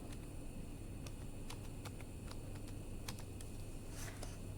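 Rapid keystrokes on a computer keyboard entering an ID number, irregular clicks close by over a steady low background hum.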